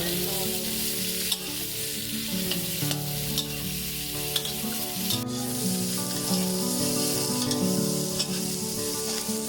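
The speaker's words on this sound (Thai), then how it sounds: "พอกระเทียมเริ่มหอมก็ให้เรานำไส้กรอกใส่ลงไปได้เลยค่ะ" Sausages frying with garlic in a pan for a Thai sausage dish, a steady close sizzle with occasional scraping and stirring, no talking.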